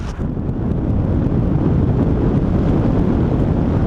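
Strong wind buffeting the microphone while paragliding along a coastal ridge, a loud continuous low roar and rush that barely varies for a few seconds, with no voices.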